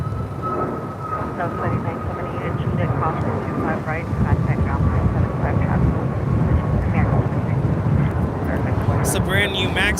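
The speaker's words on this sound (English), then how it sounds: "It's a brand new MAX 8 taking off to San Antonio, Texas" A brand new Southwest Airlines Boeing 737 MAX 8 takes off at LAX bound for San Antonio, its broad engine roar loud and steady throughout while people talk over it.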